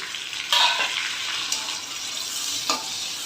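Chopped tomato and garlic paste sizzling in a pan with chicken for a jackfruit curry, a steady close frying hiss broken by a few louder bursts and the scrape of stirring, with no voices.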